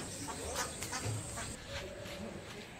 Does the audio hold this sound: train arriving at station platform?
no